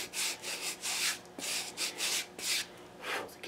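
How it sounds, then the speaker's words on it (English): A crepe rubber block rubs across 120 grit sandpaper to clean it, making a rhythmic series of soft, scratchy back-and-forth strokes, close and quiet, with no voices. "This is my 120 grit, and again, I'm just refreshing it with this crepe block."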